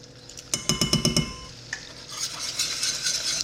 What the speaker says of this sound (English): We're gonna whisk it in until it makes a paste.